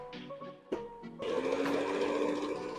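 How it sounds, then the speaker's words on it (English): Electric stand mixer beating red velvet cake batter at medium speed, starting after a few clicks and knocks and then running as a steady loud whir with no talk. "So we are mixing on medium speed for 5 minutes."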